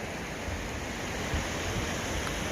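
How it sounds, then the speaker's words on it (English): The Nolichucky River near Erwin, Tennessee, flows in a constant, even rush of water, a broad steady roar with no voices and no changes. "Nolichucky River."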